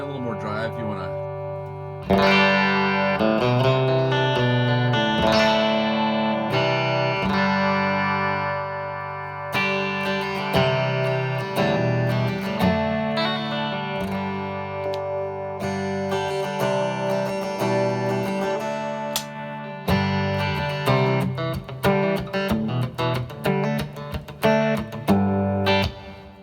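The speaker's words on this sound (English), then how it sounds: "And a little more drive if you want to." Electric guitar through a Flyrig 5 amp emulator pedal with extra drive dialed in, demoed at a music store: gritty, sustained overdriven chords and riffs, with brief breaks and a flurry of picked notes near the end, loud and close-miked.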